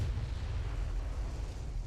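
Naval gunfire from warships in the game Ultimate Admiral: Dreadnoughts, a dense continuous low rumble of cannon blasts and booms rolling together without pause.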